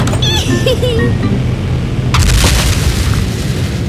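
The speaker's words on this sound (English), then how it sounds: "I think I heard an explosion in the living room." A deep booming explosion bursts out midway in Minecraft, heavy and loud, following a stretch of game-like chirps and tones over a low rumbling background.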